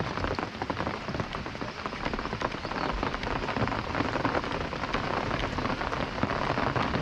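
Heavy rain drums steadily on an open umbrella held overhead while fishing outdoors: a dense, loud, continuous patter with no voices.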